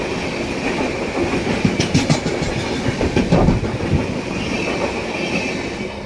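The Thiruvananthapuram Central to Mumbai Lokmanya Tilak Netravati Express rolls past close by, with a steady rumble, rhythmic clickety-clack of wheels over rail joints and a faint squeal.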